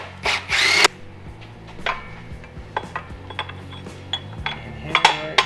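A power tool bolts metal fenders onto a vehicle: a short, loud whirring burst up close, followed by scattered metallic clanks and taps.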